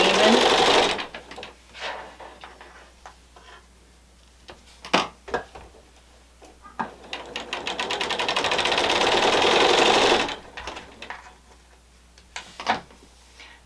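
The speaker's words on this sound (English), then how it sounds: "I'm going to sew down to the end, make sure my edges are even" A sewing machine stitches a quilt pinwheel seam in short bursts: a loud run at the start, then a longer steady whir of several seconds, with clicks and fabric handling between runs and brief speech.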